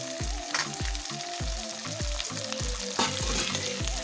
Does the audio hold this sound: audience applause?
no